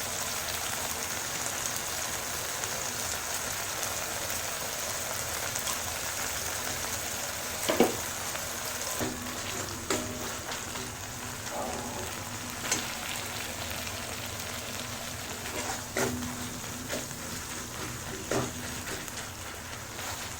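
Tomato and masala frying in a pan for an Indian palak paneer, a soft continuous crackling sizzle with occasional sharper pops and stirring knocks, fairly close and steady throughout.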